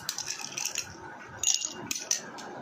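Ice cubes dropped into a glass while making lemon water, a few sharp clinks and rattles in quick bursts, fairly close and moderately quiet.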